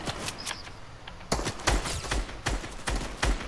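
Gunfire in the Fortnite video game, a series of sharp shots and bursts in quick succession over a noisy game background, with no talk over them.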